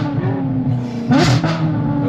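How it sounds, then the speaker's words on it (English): Ferrari exhaust through downshifts and overrun with valves open, a brief throaty blip and crackle rising over a steady engine drone, close and loud. "Those downshifts. Hear the overrun as well?"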